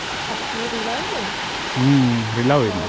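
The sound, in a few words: waterfall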